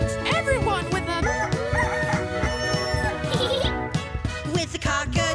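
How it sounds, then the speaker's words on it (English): Cartoon rooster crowing rings out over busy, harmonically rich music, loud and close, with repeated tonal calls woven through the song. "From miles away, you hear cock-a-doodle-doo."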